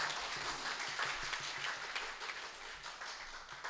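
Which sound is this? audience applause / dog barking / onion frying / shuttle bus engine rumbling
audience applause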